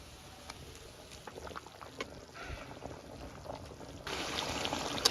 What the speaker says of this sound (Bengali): মৌটা উতলেই গেছে, এখন ভাজা মাছটা দিয়ে দেবো।